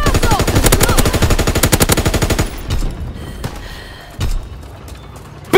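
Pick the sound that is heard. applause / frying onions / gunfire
gunfire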